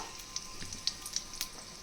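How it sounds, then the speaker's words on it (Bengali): Bay leaf and dried red chillies crackling in hot oil, a light, close spitting sizzle with scattered small pops and no speech. "তেল দিয়ে দেব তেজপাতা শুকনো লঙ্কা"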